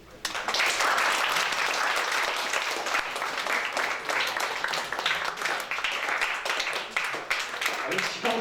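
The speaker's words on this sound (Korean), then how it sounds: "박수" A lecture audience applauds during a school principal's humanities talk on Nietzsche. Dense, steady clapping fills about eight seconds at a fairly loud, even level, with faint voices mixed in.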